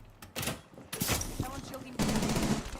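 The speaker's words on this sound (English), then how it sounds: "Someone shooting." Bursts of gunfire from the video game Rainbow Six Siege crack in short clusters, with sharp transients separated by brief gaps and a denser rattle toward the end, under faint background voices.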